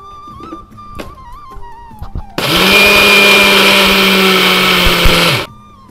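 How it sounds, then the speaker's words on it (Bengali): A kitchen mixer grinder whirs loud and close for about three seconds as it grinds sesame seeds with four green chillies. The motor starts abruptly after a few light clicks and handling knocks, then stops with a falling whine. "দেখো, মিক্সিতে তিলটা বেটে নিয়েছি"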